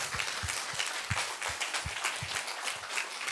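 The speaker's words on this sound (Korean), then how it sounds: "이 말씀을 주신 하나님께 박수로 영광을 드리겠습니다" A church congregation at a mountain prayer retreat gathering applauds, a dense, steady wash of many hands clapping at once that fills the room throughout.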